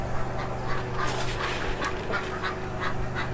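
Ducks and chickens crowd around at feeding time, quacking and clucking amid steady background noise with a low hum, no talk.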